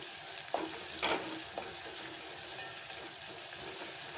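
Onions fry gently in a pan until translucent, giving a soft, even sizzle with a few light stirring knocks early on. The sound is faint and steady, with no talking.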